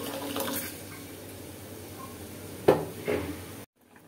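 Water pours into a pot of rohu fish curry with snake gourd, a steady rushing splash that swells briefly near the end and then cuts off abruptly.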